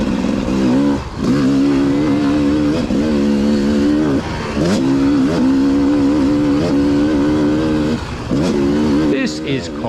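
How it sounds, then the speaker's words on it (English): Hard enduro motorcycle on a slow sighting lap of a rough track at the Tenterfield Terror, its engine droning steadily close by with repeated rises and dips in revs and brief throttle cuts, a voice talking over it. "This is Coxy's sighting lap, so he's just in cruise mode and checking out the track for the first time."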